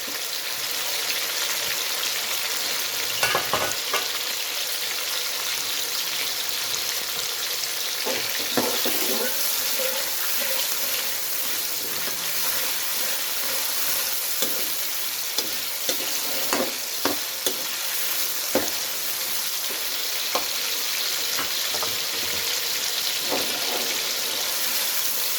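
Beef karahi with tomatoes in hot oil in a kadai, giving a steady loud sizzle throughout with frequent scraping stir clicks and occasional clatter, and no talking.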